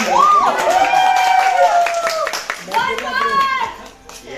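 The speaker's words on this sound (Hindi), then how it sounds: "तो यार एक बार वापस जो हमारी लड़कियां उनके लिए तालियां हो जाए" A crowd on the set of the TV show Maddam Sir claps for the girls, with rising whoops and cheering voices over the clapping and people talking throughout.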